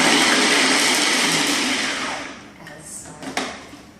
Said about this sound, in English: carrots just to chop them roughly before we add everything else